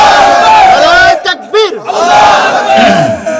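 A large crowd at an Islamic religious gathering chants slogans in unison with raised hands. Loud, close group shouts come in rhythmic bursts, with a brief pause midway.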